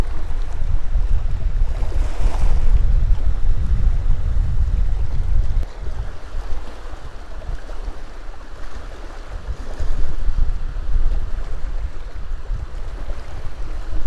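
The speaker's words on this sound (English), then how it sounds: "I'll just bring you around so you can see the waves" Waves wash along the shore of Loch Ness at Fort Augustus, Scotland, a steady rushing surge with low rumbling wind buffeting the microphone, swelling and easing over several seconds, with no voices.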